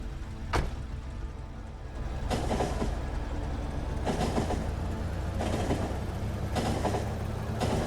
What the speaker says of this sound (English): the train decided to go switch to the outer track and then to the inner track